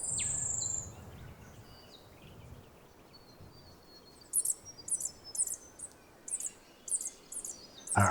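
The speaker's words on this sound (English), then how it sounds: "fairy wrens out here. They're so loud, you could probably hear the noise." Fairy wrens in breeding season call outdoors on Kangaroo Island, giving a series of bright, high, rapid trills that repeat in short bursts over a steady rushing background of wind or distant surf.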